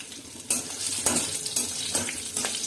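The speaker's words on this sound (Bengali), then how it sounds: "এবার আমি এর মধ্যে তেজপাতা, গোটা জিরে আর কাঁচা লঙ্কার ফোড়ন দিয়ে দিলাম।" Bay leaf, whole cumin and green chili dropped into hot oil for tempering, with several clattering metal scrapes against the pan over a light sizzle.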